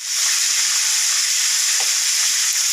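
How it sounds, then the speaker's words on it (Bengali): Prawns lightly frying in a pan give a loud, continuous close sizzle, a bright steady hiss with faint stirring underneath. "হালকা করে ভেজে নিচ্ছি"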